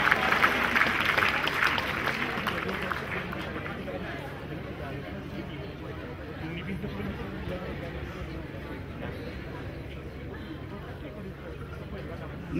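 Audience at a university convocation clapping, a strong burst of applause at first that soon settles into a lower, continuous patter of hands, blended with crowd murmur and a voice over the hall's sound system.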